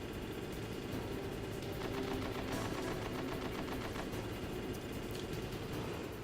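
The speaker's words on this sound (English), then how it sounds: "The gunner will hit you a lot." A gunner enemy in a Spyro video game fires in dense, rapid bursts of automatic gunfire that roll on steadily and loudly for the whole stretch, with no talking over it.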